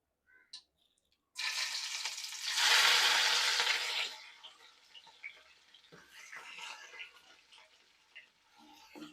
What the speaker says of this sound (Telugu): ఇప్పుడు కట్ చేసుకున్న ఉల్లిపాయ వేసుకుంటున్నాను